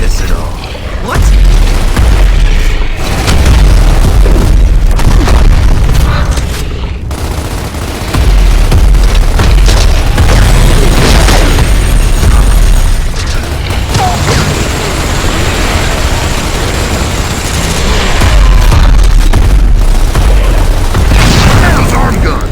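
Boss arm guns in Gears of War Ultimate Edition firing during a boss fight, loud continuous booming gunfire bursts and mechanical clatter, dense and sustained under game action.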